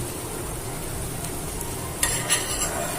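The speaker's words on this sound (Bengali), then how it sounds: "পাঁচ থেকে সাত মিনিট পর বড়াগুলি উল্টে দিচ্ছি" Chana fritters frying in mustard oil sizzle steadily in a pan, then a few sharp utensil scrapes and clinks mark them being turned over near the end.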